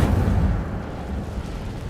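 A fiery burst from the Incendio spell in Hogwarts Legacy, a muffled boom at the start trailing into a low, roaring rumble that fades gradually, with no talking.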